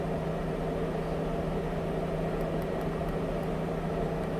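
A steady, even drone from a Chevrolet Silverado truck that is running rich on the road. The low engine and road noise stays constant and close, with no talk.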